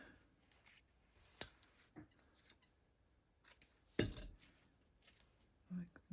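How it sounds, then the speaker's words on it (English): Scissors snip paper for a black-and-white grid collage. A few quiet, sharp cuts are spaced apart, with soft rustling and light clicks between them, close by and faint. "Perhaps just a snip of it."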